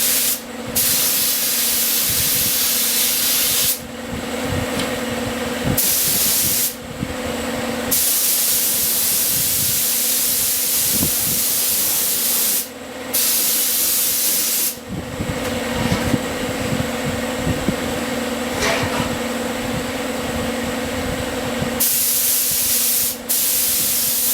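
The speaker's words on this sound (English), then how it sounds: "we'll go ahead and spray this thing with lacquer" A spray can of lacquer hisses in long, loud bursts separated by brief pauses, the steady spray close to the listener, coating an Aerola SR radio.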